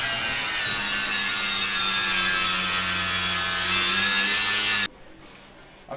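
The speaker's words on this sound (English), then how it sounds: "I'll just prepare the metal with the grinder here so we get a nice surface to test onto." Grinder prepping a metal surface before a hardness test in a machinery supplier's workshop: a loud, continuous high whine with a steady tone, close by, stopping abruptly near the end.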